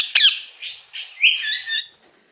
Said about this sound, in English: The sound of parrot is called talk.